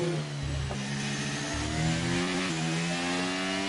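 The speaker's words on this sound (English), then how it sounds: "the engine sound is super loud" F1 car engine in the F1 23 racing game, loud and high-pitched, revving and shifting through gears with a steady buzzing drone and brief pitch drops, no talk.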